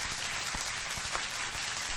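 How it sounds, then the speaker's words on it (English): Studio audience on a talk show applauding a newly introduced guest, a dense, steady wash of many hands clapping close by, alone and without voices for the full two seconds. "Ladies and gentlemen, a round of applause."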